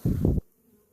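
Honey bees buzzing in an open hive during pest management, a loud close drone lasting under half a second before it cuts off abruptly into quiet.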